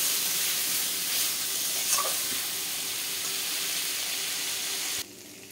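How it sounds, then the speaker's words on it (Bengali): A spice paste with turmeric is stir-fried in a pan for a papaya, potato and chickpea curry, hissing in a loud, continuous sizzle that cuts off abruptly near the end. "মশলাটাকে ভালো করে কষাবো"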